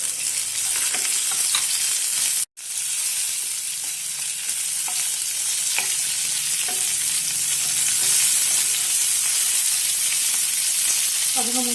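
Cumin, garlic and green chilies sizzle steadily in hot oil in a pan, a constant close frying hiss with occasional stirring scrapes and one brief dropout.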